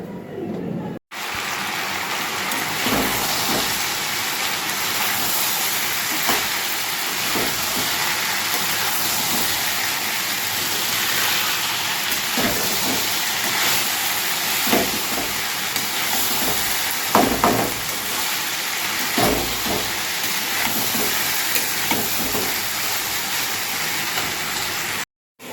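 Potatoes frying in a pan in a home kitchen, a steady continuous sizzle with occasional soft stirring clinks and scrapes, close and unbroken throughout.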